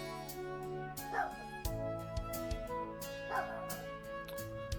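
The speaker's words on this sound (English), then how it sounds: "You're hearing my dog go off." A Jack Russell terrier barks and yips indoors in a short run of sharp, fairly close barks, with a game's music and sound playing steadily underneath.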